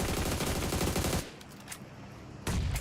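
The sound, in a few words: gunfire in video game PUBG Mobile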